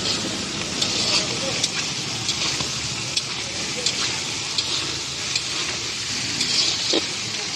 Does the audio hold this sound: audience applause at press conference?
no